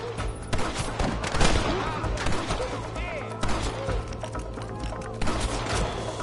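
A PS5 video game shootout with repeated gunshots and volleys firing in quick succession, loud and continuous, with voices shouting briefly beneath the gunfire.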